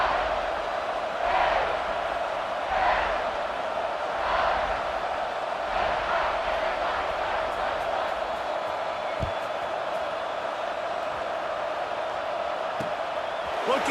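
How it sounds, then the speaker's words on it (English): In a football video game, a stadium crowd keeps up a continuous, fairly loud buzz, swelling into a few broad surges and crossed by the odd sharp thud. "this crowd is buzzing after that last score"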